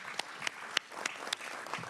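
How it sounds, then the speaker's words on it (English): Sparse applause at a congressional hearing on religious freedom, with a few distinct, separated hand claps ringing out over a quiet room rather than a full ovation. "You can feel free to applaud."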